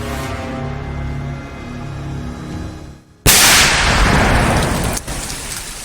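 IED bombs being destroyed by security forces in a forest at Goilkera, West Singhbhum, Jharkhand: a sudden, very loud blast cuts in after music, followed by a long, dense rumbling echo.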